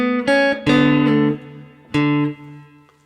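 A guitar plays the following phrase of a song. Four or five clear plucked notes ring and sustain in a relaxed rhythm, with a final note left to fade, heard up close without talking.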